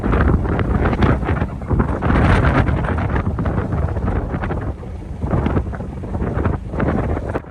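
A tugboat's engine roars as its propeller churns the water in the port of Antwerp. The sound is a loud, rough wash with heavy wind buffeting the microphone in uneven gusts.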